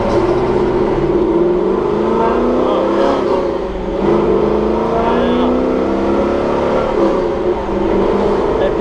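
A 1968 Camaro SS accelerating hard, its engine roaring loud and close with rising revs that climb, ease and climb again across several surges.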